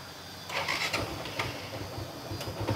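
A second-hand motorcycle with an untouched original engine starts up at a Bangladeshi used-bike dealer, faint cranking catching into a low, uneven running engine.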